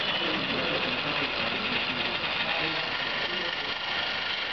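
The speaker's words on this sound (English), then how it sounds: "Here, the cabin shifting the vehicle to the slot 1." Automatic sky car parking system with RFID access, its cabin shifting a vehicle into a parking slot: a steady, continuous mechanical whir and hum at moderate level, with faint room noise and possible distant voices underneath.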